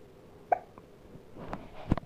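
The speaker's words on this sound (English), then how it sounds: "Ah, you got the hiccups." A baby hiccups, two small sharp catches about a second and a half apart, faint and close against a quiet room.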